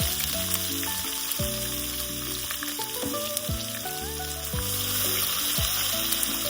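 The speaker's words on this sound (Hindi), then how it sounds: "और इसे प्याज को थोड़ी देर तक फ्राई करेंगे, हल्का लाल करेंगे।" Sliced onions sizzle steadily in hot oil tempered with cumin seeds while being cooked for a bhindi masala, a continuous close, bright crackle with occasional stirring.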